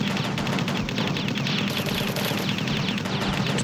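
Gunfire in the aerial combat video game Dog Fight 2, a dense, steady stream of rapid shots that runs loud and unbroken throughout.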